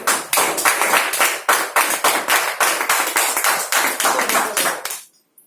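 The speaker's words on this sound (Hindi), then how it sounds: "ताली सर वैसे भी बजा लेनी चाहिए।" An audience claps in a strong, even rhythm, each clap sharp and close, the beat running steadily for about five seconds before it stops abruptly and leaves near silence.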